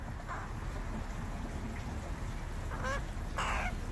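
A rescued baby crow gives a few short, harsh calls, near and fairly clear, spaced out over a soft background hiss with no talking.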